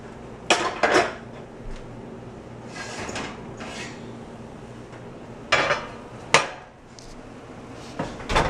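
Pan of lemon potatoes coming out of the oven, with a few sharp metallic clanks and knocks of the pan and oven rack separated by quiet gaps.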